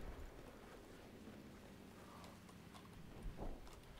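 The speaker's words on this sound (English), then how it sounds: "I hear a boat, okay, it's friendly." A boat engine in Battlefield 4 gameplay, a steady broadband rumble with wash-like noise running throughout the short stretch, fairly loud with no talk over it.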